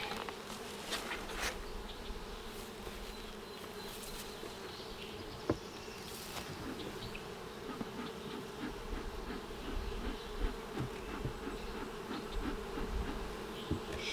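Steady insect buzzing fills the scene, a dense hum of many honey bees around a hive with occasional louder passes close by and a few faint clicks.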